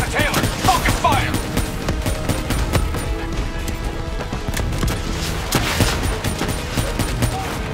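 Dense rapid gunfire in the Black Ops 3 video game, continuous overlapping shots and impacts layered over game noise, with brief voices over the battle.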